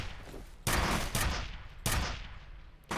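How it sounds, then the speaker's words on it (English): Three sharp, loud gunshots from a wall-pinning, body-piercing weapon in the shooter game F.E.A.R., each a hard burst with a short decaying tail, spaced irregularly and heard alone with no talking. "this weapon will shoot through people and pin them to walls and stuff"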